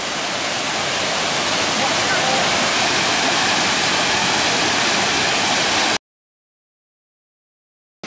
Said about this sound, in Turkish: Burası Elephant Waterfall, yani fil şelalesi diyorlar.